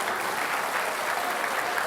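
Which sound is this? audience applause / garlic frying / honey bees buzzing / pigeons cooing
audience applause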